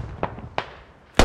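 Grenades explode in the military shooter game Squad, three sharp blasts about a third of a second apart, the last the loudest, with no one talking.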